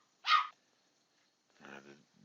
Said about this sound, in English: Get the dogs to be quiet.